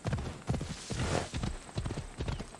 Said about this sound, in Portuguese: O nome desse cavalo é Janjão